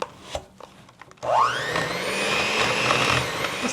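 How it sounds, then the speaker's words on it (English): A kitchen mixer starts up and beats softened butter and sugar for snickerdoodle dough, a few soft clicks and then a loud, steady whirring drone that holds close and even. "we're going to just beat this till all light and fluffy"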